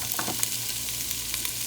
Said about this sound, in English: So we're going to go ahead and start stirring that around. Let this go ahead and start sauteing down.